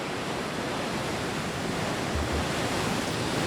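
Strong south-swell ocean waves break along the San Diego coast, making a steady, loud, broad roar of surf and churning water with no voices.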